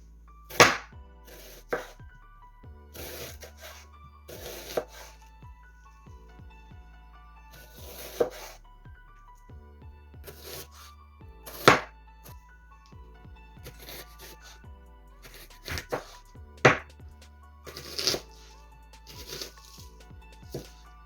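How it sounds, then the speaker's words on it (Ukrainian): A knife slices an onion very thinly on a cutting board, giving sharp, irregular close-up strokes in short runs and quick bursts over a faint steady background hum. "розрізаю ще наполовину. І старайтесь нарізати все тоненько-тоненько."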